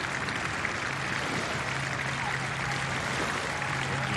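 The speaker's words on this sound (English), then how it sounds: "And the applause coming off the crowd," Steady crowd applause from spectators at the Henley Royal Regatta 2019 rowing finals, a dense, even wash of clapping sustained throughout as two crews race toward the finish.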